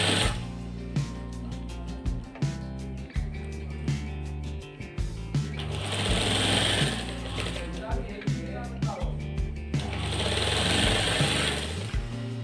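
A sewing machine stitches an apple cut shirt in close, rhythmic bursts that start and stop, with a longer steady run in the middle.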